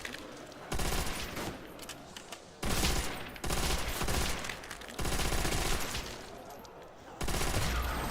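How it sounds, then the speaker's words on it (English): Bursts of MG42 machine gun fire in the zombie video game Nacht der Untoten, loud and sustained across several long volleys separated by brief pauses. "I'm gonna prioritize the MG42 because I'm almost out of ammo on the Browning"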